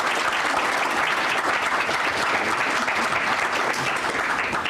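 An audience applauds speakers at a roundtable on lead in drinking water, with steady, dense clapping from a full room that continues evenly throughout.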